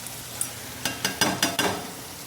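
Small marinated fish dropped into hot oil with fried ginger garlic paste, giving a few short sizzling bursts and stirring scrapes close by, with no talking.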